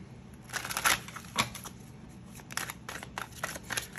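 Tarot cards are shuffled in short bursts of crisp riffling and flicking, close and fairly quiet, with gaps between the bursts.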